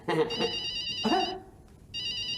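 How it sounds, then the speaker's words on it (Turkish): A telephone rings during a Turkish comedy theatre sketch, its bright repeating tones sounding in short bursts, with voices talking over and around the first rings before the ringing continues alone. "benim telefonum çalıyor"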